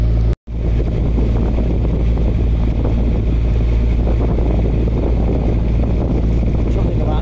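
A narrowboat engine running at full throttle against a strong tide at sea, a constant low rumble buried under loud, steady wind buffeting across the microphone.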